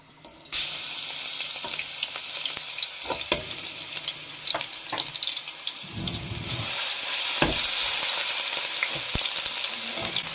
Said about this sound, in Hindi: तो उसके गर्म हो गया तो उसमें मैंने ये डालना है अदरक और लहसुन का पेस्ट।